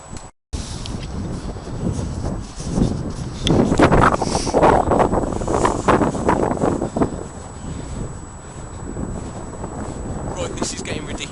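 Strong wind gusts buffet the microphone outdoors in a survival setting, a loud continuous roar that swells and surges, with people talking over it.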